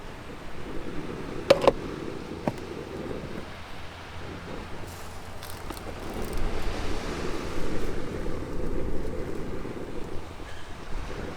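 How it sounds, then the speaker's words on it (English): Wind blowing across a beach at an overnight camp, a rough low rumble and buffeting against the microphone that swells and fades, with a few brief clicks early on. "Getting a bit of wind. Hopefully it doesn't blow it out."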